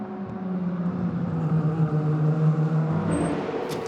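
A Porsche endurance race car in the FIA WEC 6 Hours of Shanghai, 2015, rolls into the pits, its engine a steady loud drone with a sliding low tone that drops as it slows, ending with a brief whine.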